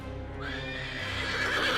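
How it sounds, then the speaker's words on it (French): A horse whinnies loudly and close, a rising then wavering neigh over a steady low rumble, with faint hoof clip-clop beneath. "surpris par les hennissements de son cheval"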